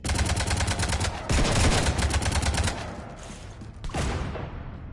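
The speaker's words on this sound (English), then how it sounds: "You want to stop shooting up my ship?" Rapid video game gunfire aimed at a ship, dense machine-gun bursts fired loudly and close, then easing into scattered shots and mechanical clatter.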